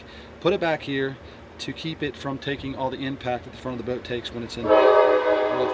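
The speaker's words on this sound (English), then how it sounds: "You'll have to excuse the train going by, the new sunrail." A SunRail commuter train goes by close to a backyard on the water, its horn blasts and broad rumble rising near the end while someone talks over it.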